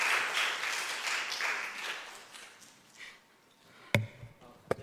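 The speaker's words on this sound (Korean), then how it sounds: "박수 부탁드립니다." Church youth group audience applauding on Teachers' Day, a dense wash of clapping that fades over a few seconds, followed by a couple of sharp isolated knocks near the end.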